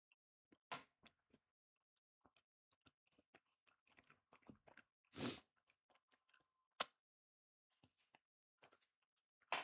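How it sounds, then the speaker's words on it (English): A person chews food right up against a sensitive microphone, making intermittent wet crunches and clicks, some sharp and loud, separated by short quiet gaps. "you guys can still hear me chewing because my microphone is so sensitive"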